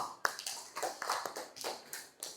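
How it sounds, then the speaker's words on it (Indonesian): A class of students claps briefly, with a short run of scattered, fairly faint handclaps. "Baik, tepuk tangan buat Oki."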